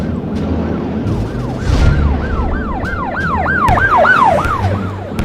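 A wailing police siren sweeps up and down in steady, rapid cycles, growing louder toward the end, overlapping a dense rumbling roar of a jet flyby, both sound effects.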